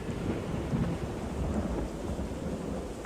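A thunderstorm with steady rain rumbles low and continuous behind a song, a dense wash of rain and distant thunder without clear separate cracks.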